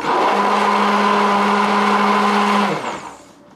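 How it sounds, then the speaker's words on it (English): A blender motor runs loud and steady for nearly three seconds, mixing a mixture, then winds down and stops, with no talk over it. "keep mixing it. So I'm kind of stirring it here just to get it in there"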